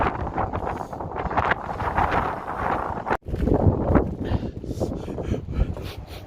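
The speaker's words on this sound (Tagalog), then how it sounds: "gusty wind po yan." Strong gusty wind of roughly 90 to 120 km per hour buffets the microphone in loud, surging roars that briefly drop out before rushing back in.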